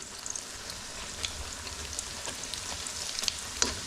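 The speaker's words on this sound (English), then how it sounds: "So let me just turn these onion ones over." Onion pakoras sizzle steadily in hot oil as they are turned, a dense, even crackle with a few brighter pops and light clinks near the end.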